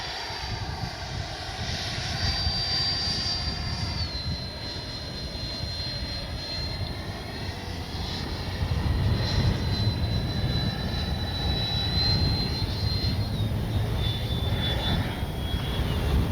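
A Freewing F-22 90mm electric ducted-fan RC jet flies a pass with flaps and landing gear down, giving a steady high turbine whine that swells slightly louder partway through and stays continuous at moderate distance, with no talking.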